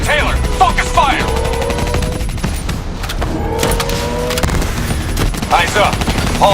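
Automatic weapons fire in the Call of Duty Black Ops 3 campaign, loud bursts of rapid gunshots in repeated volleys with metallic impacts and electronic effects, broken by short pauses, amid game combat sounds.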